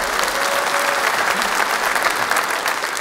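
Audience at a stand-up comedy show bursts into steady, dense applause, loud and continuous clapping from a full crowd throughout.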